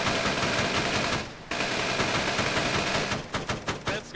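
Sustained automatic fire from a vehicle-mounted gun in Arma 3 rattles almost continuously at close range, breaking off briefly near the middle and ending in a few separate bursts.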